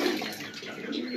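A pure-bred black Kaldom pigeon gives a brief soft coo up close. Broad background noise sits under it, with a faint watery wash.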